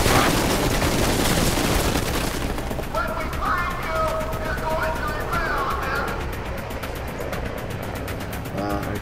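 Rapid gunfire in the zombie survival game Deadlight, a dense, continuous crackle of shots under a loud rumbling mix, with a harsher clattering burst in the second half.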